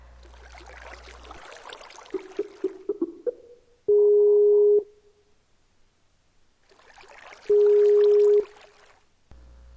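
Unanswered phone call in a Minecraft session: a ringing tone sounds in two long bursts separated by a pause, with brief tapping and splashing noises in between.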